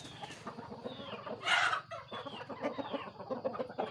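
Chickens cluck steadily close by, with one louder squawk in the middle and soft chattering calls continuing throughout.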